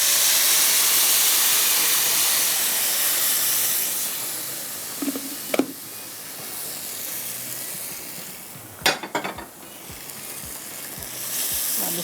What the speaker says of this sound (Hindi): अब इसको आपने थोड़ा सा भूनना है